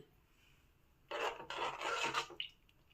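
A spoon scrapes and rubs against a pot in a few quick stirring strokes as a gram flour mixture is stirred into drumstick curry, rasping briefly and then fading.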